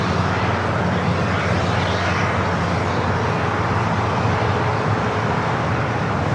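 Airliner pushing back for a south-side takeoff at LAX, its engines giving a steady, loud broadband roar with a low rumble that holds unchanged throughout, no voices.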